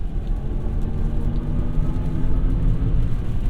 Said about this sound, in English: the motor sound